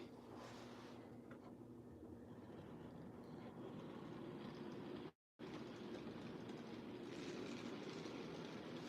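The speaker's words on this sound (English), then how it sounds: "let's see if I can't get the train running" A small N scale model train rumbles steadily along its track, a soft continuous whirring and clatter with a brief dropout partway through.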